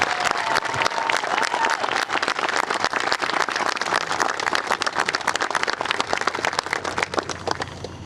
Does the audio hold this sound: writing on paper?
no